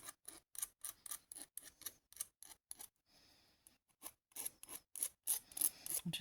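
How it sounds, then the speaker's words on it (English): Rhythmic rasping strokes of a metal file smoothing the cut ends of copper wire for a twisted brooch, about a dozen quick close strokes, a brief pause, then more strokes at a faster pace. "So I'm going to file properly both ends now"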